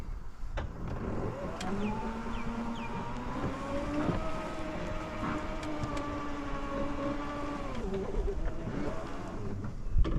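A Cub Cadet CC 30 E electric ride-on lawn mower backs up and drives off, its electric motor giving a steady, close tonal whine that holds for several seconds before winding down, with a few small clicks around it.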